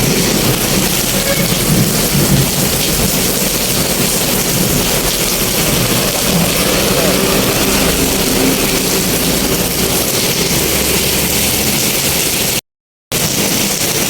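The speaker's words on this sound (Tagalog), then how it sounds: "lakas po ng ulan mga kaibigan" Heavy rain pours down steadily in a dense roar in Baliwag, Bulacan, with low thunder rumbling underneath throughout, close and loud.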